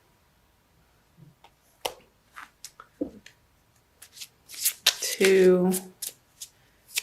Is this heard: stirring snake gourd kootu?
no